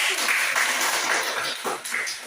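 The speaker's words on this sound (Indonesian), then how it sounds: "berikan tepuk tangan buat kelompok 1" A classroom group claps for classmates after a presentation, a short burst of loose, moderately loud clapping with faint voices underneath.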